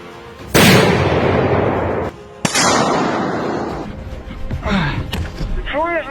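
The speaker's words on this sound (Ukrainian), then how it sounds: "ну, є команда постріл, я закидаю міну" Two loud, booming blasts from a 120 mm mortar firing, about two seconds apart, each followed by a long rumbling decay, with voices shouting nearby toward the end.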